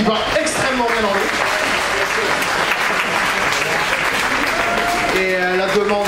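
An audience at a question-and-answer session with actors applauds steadily throughout, a dense continuous clapping that swells and holds, with faint voices mixed in beneath it.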